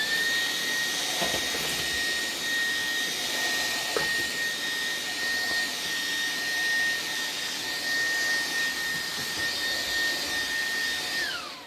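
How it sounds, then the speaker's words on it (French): A 400-watt Xiaomi Mi G9 vacuum cleaner sucks up bread with a loud, steady motor roar and high whine that holds evenly for about eleven seconds before winding down, with no talking. "Pareil, nickel, ça aspire super bien. C'est un 400 watts."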